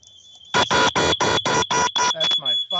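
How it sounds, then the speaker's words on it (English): A home smoke alarm blares in a rapid series of about nine loud, evenly spaced shrill beeps, close by, preceded by a softer tone and followed by a few words of speech. "That's my fire alarm."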